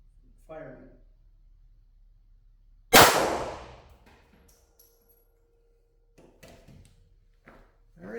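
A pistol shot fired into ballistic gel at a range, a single loud sharp blast followed by a brief decaying ring, with quiet talk before and after.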